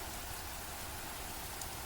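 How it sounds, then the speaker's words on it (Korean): Heavy downpour beating on forest leaves and on a helmet over a poncho at an outdoor guard post, a dense, steady hiss of rain that fills the whole moment close and loud with no voices. "주변 숲의 나뭇잎을 강타하는 빗소리가 너무나도 크게 들렸다"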